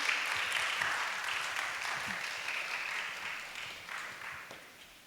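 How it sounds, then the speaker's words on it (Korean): An audience at a youth and college student joint worship service applauds, a dense steady wash of clapping that holds strong and then gradually thins out. "이정연 회장님 앞으로 나오실 때 큰 박수 부탁드리겠습니다"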